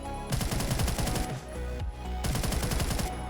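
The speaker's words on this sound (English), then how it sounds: "I gotta check it by shooting at a wall" Automatic MP5/10 fire from Phantom Forces sprayed at a wall, two loud, close bursts of rapid shots separated by a short pause, with no voices.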